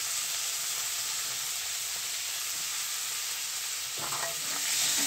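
Tomato and green chillies sautéing in a pan over medium heat, a steady close sizzle and hiss with soft stirring scrapes, briefly louder near the end.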